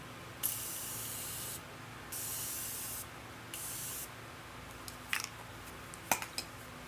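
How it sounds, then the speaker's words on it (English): Several short hissing bursts of Morphe Continuous Setting Mist being sprayed onto a face, spaced about a second apart. Faint handling clicks follow after the last puff. "I have my beautiful Morphe Continuous Setting Mist"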